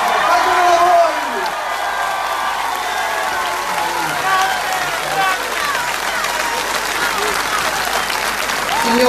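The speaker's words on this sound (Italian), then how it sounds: "Fatemelo voi un applauso, fatemelo voi!" Loud, sustained applause and cheering from a crowd at a Five Star Movement political rally in Messina, steady dense clapping with whoops filling the whole stretch.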